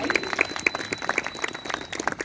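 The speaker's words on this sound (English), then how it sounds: "So give these two a round of applause." Outdoor audience applause at a falconry display by Whitby Abbey, scattered clapping from a modest crowd with a voice speaking over it.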